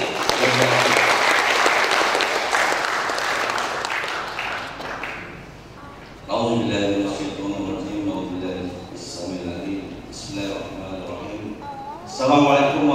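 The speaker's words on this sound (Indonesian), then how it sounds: "Sekali lagi tepuk tangan untuk Direktur Luas MHC." A seminar audience claps for a director at an event on juvenile delinquency and its prevention, a dense burst of applause that slowly fades, then a speaker talks over a quieter room.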